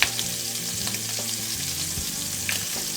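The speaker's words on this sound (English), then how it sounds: "It is time to flip our shrimp." Shrimp seasoned with salt and pepper sizzling in a hot pan as they are flipped, a constant crackling fry with a few scraping turns and light taps from the utensil.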